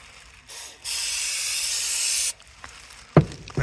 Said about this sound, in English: That's all you need to do is just spray it.